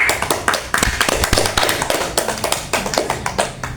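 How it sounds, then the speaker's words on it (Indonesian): Studio audience clapping for three podcast guests, close and lively, with dense overlapping hand claps sustained through the whole stretch without any talk. "Yuk, kita berikan tepuk tangan dulu buat mereka."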